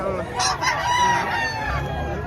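A rooster crows loudly and close by amid a busy chicken market hum in Batangas, with faint voices in the background.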